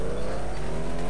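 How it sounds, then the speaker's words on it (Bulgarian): Brief burst of a car engine in the FlatOut 2 racing game, a sustained rising engine tone holding loud and steady for about a second. "колата ми реши естествено да се засили"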